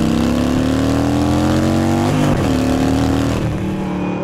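A Harley-Davidson Sportster pulls hard at full throttle in second gear, its engine note climbing steadily in a loud, close, continuous rising roar before briefly dipping and pulling on again.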